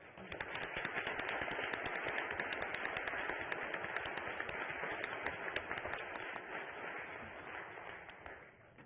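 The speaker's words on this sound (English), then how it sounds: "One more round of applause." Sustained applause from the audience at a city council meeting, dense clapping holding steady for several seconds before tapering slightly at the end.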